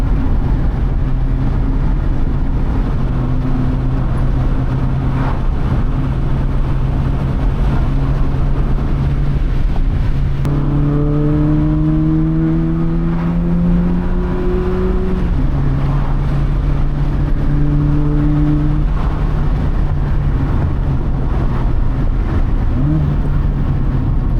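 A Honda Fit engine drones steadily, its pitch climbing in gear-like steps as it accelerates, with constant road and wind noise throughout.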